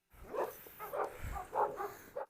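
Dogs bark in a quick series of five or six short yips and barks, close by and fairly quiet; a Doberman and a Cane Corso are playing roughly with a man.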